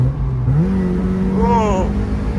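A Mazda MX-5 engine blips its revs during a downshift, a steady engine drone that rises in pitch, peaks and falls back, heard from inside the car over a constant road rumble.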